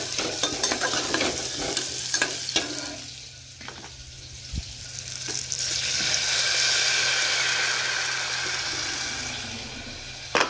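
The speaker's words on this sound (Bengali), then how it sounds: "ডিম আর আলুটা একটু ভেজে নিচ্ছি" Eggs and potatoes fry in a pan with a steady sizzle, broken by repeated scraping clicks of a spatula stirring and turning them, the hiss swelling louder midway before a final clatter.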